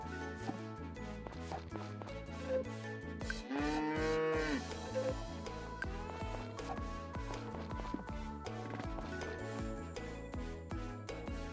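A cow in the farming game Story of Seasons: Friends of Mineral Town lets out a single clear moo over bouncy looping background music, with light chiming game effects around it.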